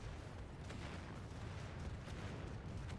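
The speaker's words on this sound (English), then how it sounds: "Seeing a lot of explosions just right in front of their bases, but just unable to push through." Artillery explosions in the real-time strategy game Final Assault, heard as a dense, continuous rumble of distant booms and blasts with no voices.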